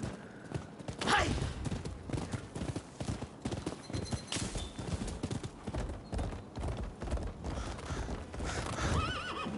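Video game horse hooves clop in a steady rhythm while the horse neighs and whinnies a few times, with occasional talking in the background.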